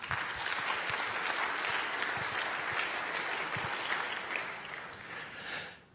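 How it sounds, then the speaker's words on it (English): A conference audience applauds for the design logo team, dense sustained clapping filling the room at full strength before tapering off near the end. "So also like a big applause for the huge design logo team here."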